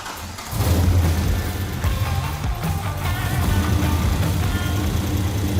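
A car engine fires up and revs through its mufflers in a garage, a loud, deep, continuous exhaust roar that holds steady for several seconds after a quieter start.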